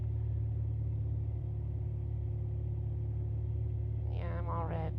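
Light aircraft engine idling at reduced power on short final to runway 20 at Dayton Wright Brothers airport in rain, a steady low droning hum throughout, with a brief voice-like tonal burst near the end.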